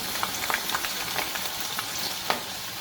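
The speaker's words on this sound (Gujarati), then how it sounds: "સોયાબીનને ઠંડા કરીએ ત્યાં સુધી આપણે તેલમાં ડુંગળીને ફ્રાય કરી લઈશું" Sliced onions frying in hot oil for a soya keema, a steady close sizzle with scattered crackles and pops throughout, no voices.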